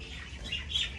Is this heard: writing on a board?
no